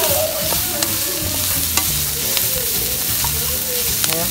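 Tofu sisig stirred in a hot pan, a steady sizzle and frying crackle with repeated scraping and clinking of the utensil against the pan, close and unbroken.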